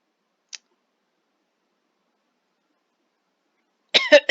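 A single person gives a short burst of coughing, close and clear, after a faint click in otherwise near silence.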